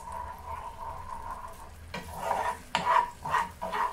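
Nanyang sauce for tofu being heated in a pan, a soft steady sizzle at first, then louder bursts of stirring and scraping in the final seconds, close by with no talking.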